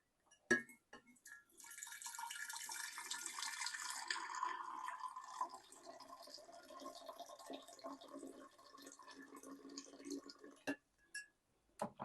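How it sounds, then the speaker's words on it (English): Hot water is poured into a vessel to dissolve sugar for homemade butterfly pea flower and lemon wine, a close splashing stream lasting several seconds before it tapers into drips and light clinks. "dissolve our sugar in some hot water"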